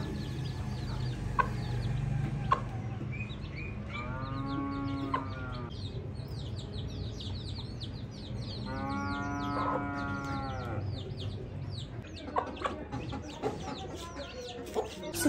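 A hen with her new chicks on a cold early morning, soft clucks and rapid peeping chirps scattered throughout, with two longer loud calls from other livestock in the middle, close by.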